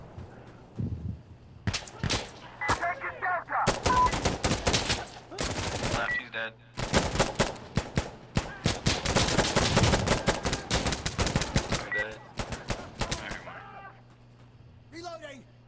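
Dense bursts of rapid automatic gunfire from a multiplayer shooter video game, loud and sustained in long volleys with short pauses, mixed with shouting voices.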